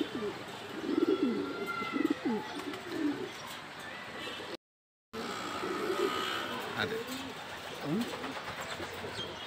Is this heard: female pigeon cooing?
yes